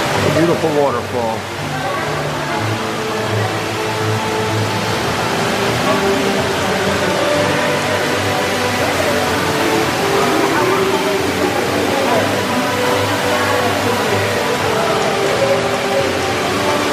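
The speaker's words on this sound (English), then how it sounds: "waterfall." Ruby Falls, an underground waterfall inside a cave, pours in a steady, dense roar of falling water that continues unbroken throughout, loud and near, with faint voices mixed in.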